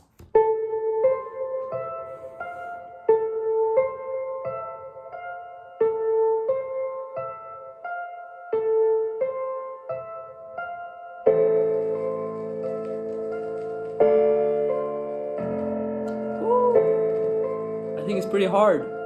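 A hip-hop beat with a repeating piano figure, joined partway through by punchy drums, deep sub bass and ticking hi-hats, steady and fairly loud.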